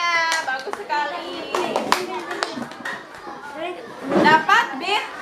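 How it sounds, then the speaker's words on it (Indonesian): Young schoolchildren in an Indonesian classroom clap in short bursts for a classmate, mixed with a teacher's voice and children's chatter over the top. "Tepuk tangan dong untuk temannya."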